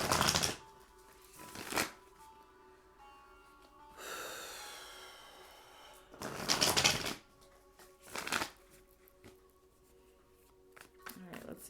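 Cards shuffled in quick riffling bursts, several separate shuffles spaced a few seconds apart, close and fairly loud against a quiet room with faint background tones.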